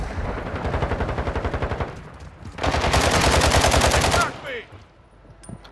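Bursts of rapid automatic gunfire with explosive rounds in Call of Duty: Modern Warfare II, two loud sustained volleys of evenly spaced shots separated by a short pause, the second burst denser and harsher, then fading into quieter game noise.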